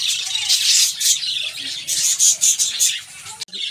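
Java sparrows and finches chirp in bright, rapid bursts while pecking at soft food, the high twittering coming close and uneven over a low background murmur.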